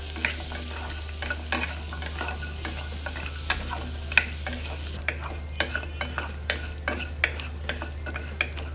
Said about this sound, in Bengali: এখন আমি কুমড়াপুরির সাথে সাথে চিংড়ি মাছটাও দিয়ে দিলাম একসাথে ভালো মতো করে এক মিনিটের মতো ভেজে নিব